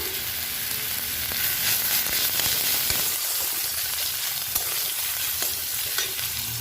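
Bay leaf, dried and green chilies, onion paste and ginger paste frying in mustard oil, a steady broad sizzle with intermittent stirring scrapes, close and fairly loud throughout, no talking.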